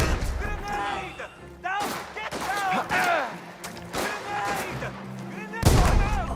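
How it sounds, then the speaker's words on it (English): In a video game, a grenade goes off among heavy gunfire and blasts, with loud booms and crashes stacked over excited talk from a player throughout. "Alright, let's test the grenade."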